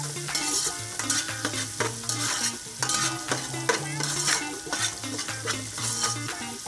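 Chicken vegetable fried rice stir-frying in a pan, a constant near sizzle broken by quick repeated scraping and tossing strokes of stirring, with soft background music.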